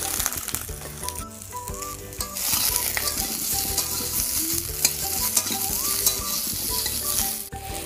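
Chopped tomatoes fry in a kadai as a spoon stirs them, with a steady loud sizzle and repeated scraping strokes that continue throughout.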